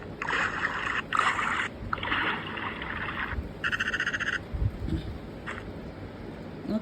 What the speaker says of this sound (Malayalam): തവളുടെ സൗണ്ട് കേട്ടപ്പോ എന്നെ നോക്കോ?